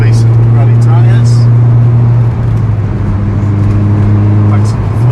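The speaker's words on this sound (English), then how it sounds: "Nice sound through the gears for the sports exhaust." A turbocharged 2011 Mini John Cooper Works with sports exhaust drives with a steady, deep engine drone and low exhaust rumble, shifting pitch midway through the gears, with brief voices in the background.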